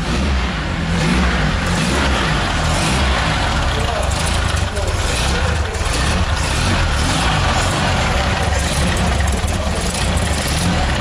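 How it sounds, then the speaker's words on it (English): Car engine runs loudly and close, holding a steady throaty drone as the gas pedal is pressed, with muffled voices underneath. "Hit the gas pedal. I want to listen how the engine works."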